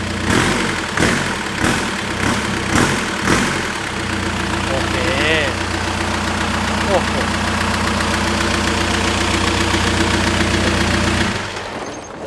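Toyota Mighty X pickup fitted with an Isuzu D-Max 4JK diesel engine, long parked, revving in a garage: a few sharp throttle blips up front, then a steady loud idle drone, with people talking nearby.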